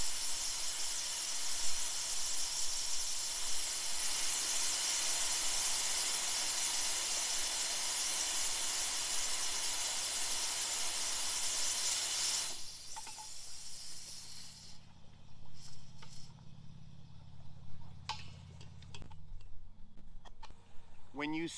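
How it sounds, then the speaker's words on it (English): Air hissing out of a 1 lb propane tank during refilling, a loud steady hiss that cuts off partway, followed by quieter handling clicks and faint rustling. "so we got some air coming out, and we know when it is done because we'll see the propane."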